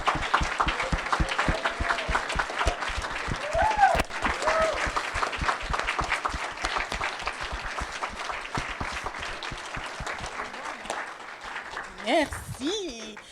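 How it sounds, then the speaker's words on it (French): An audience on its feet gives a long, dense round of applause that holds steady for about twelve seconds, with a few voices rising over it and a brief burst of speech near the end. "j'aimerais ça que vous leur donniez une bonne main d'applaudissements"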